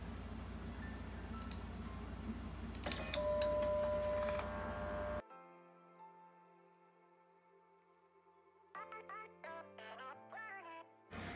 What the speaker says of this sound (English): We'll run the G-code now.